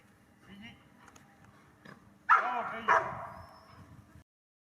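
A dog gives a couple of short, sharp barks with a whimpering yip in Hlukhiv, Ukraine, set against faint background murmur that fades out at the end.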